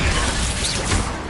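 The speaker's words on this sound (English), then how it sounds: "Stupefy!" In Hogwarts Legacy, a Stupefy spell is cast, producing a loud, rushing magical crash and whoosh with a heavy low thump, sustained for about a second of busy combat noise.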